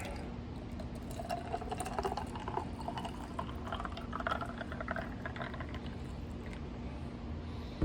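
Cantaloupe lemonade poured over ice into a glass, a steady close liquid splash and trickle running throughout with faint clinks, no voices.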